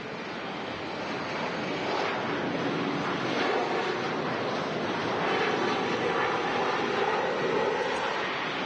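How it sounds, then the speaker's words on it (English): An Embraer 195 airliner taxis or departs at Manchester Airport, its engines a broad, steady roar heard from a distance, slowly swelling with no voices. "And now goes the Irini Air Services Embraer 195 back to Guernsey"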